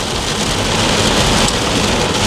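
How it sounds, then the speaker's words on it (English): Heavy rain pours down in a loud, dense, continuous hiss, close by and unbroken, with no voices over it. "it's raining like shit"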